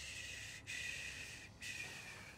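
Blazkowicz breathes heavily in Wolfenstein 2, with faint, close, hissing, snort-like breaths in a steady rhythm and a couple of short pauses between them. No one speaks over the breathing.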